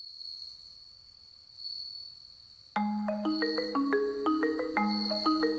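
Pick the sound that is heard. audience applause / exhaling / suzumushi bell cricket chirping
suzumushi bell cricket chirping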